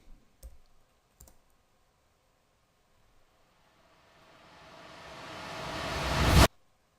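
Reversed kick drum sample in FL Studio: after a few sharp mouse clicks and a pause, a hissy swell builds steadily louder for about three seconds and cuts off abruptly at its peak.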